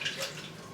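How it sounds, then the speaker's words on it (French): Tap water runs steadily over a kitchen container being rinsed at a sink, a soft continuous splashing rush with no talk. "Ce que je vais faire c'est que je vais commencer par rincer ça."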